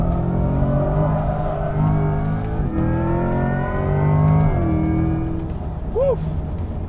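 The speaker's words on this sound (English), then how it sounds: "The 500 horsepower V8 gets her done." A Corvette E-Ray's 500-horsepower V8 revs hard on track, its loud engine note climbing through several rising gear pulls with brief dips at each shift, close and continuous.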